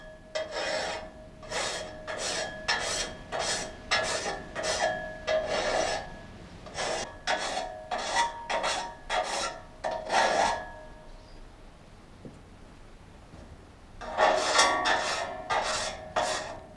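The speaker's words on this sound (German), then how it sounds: "Nach 12 bis 15 Schnitten müssen sie mit einer speziellen Sägemühlenfeile, die abgerundete Kanten hat," A water-powered sawmill's saw blade is sharpened by hand with a special round-edged sawmill file: a rhythmic run of about a dozen close, crisp rasping strokes, a brief pause, then a few more strokes.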